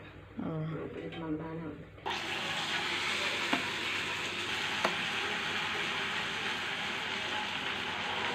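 Boorelu, sweet fried dumplings, cook in hot oil with a little tamarind added. After a brief spoken stretch, a dense, steady sizzle and bubbling rises close up and carries on with only faint clicks breaking through.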